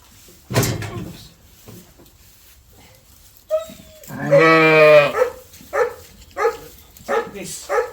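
Rare-breed Leicester Longwool sheep bleat in lambing pens, one long loud wavering bleat up close followed by several shorter calls, with straw rustling and a few knocks around them.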